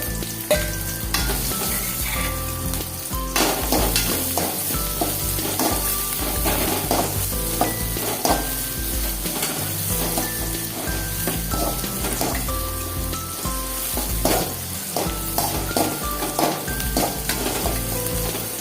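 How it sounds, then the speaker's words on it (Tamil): A large chopped onion sizzles loudly in hot oil in a pan, a dense steady frying crackle with occasional stirring scrapes, close and continuous with no talking. "எண்ணெய் காய்ஞ்சிருச்சு. இப்போ கட் பண்ணி வச்சுருக்கிற ஒரு பெரிய வெங்காயத்தை சேர்த்துக்கிறோங்க"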